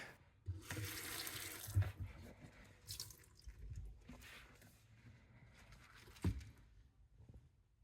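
Water runs and splashes onto a VaultX Exo-Tec trading card binder in a waterproof test, a tap-like pour with drips and a couple of sharper splashes, close by and with no talk.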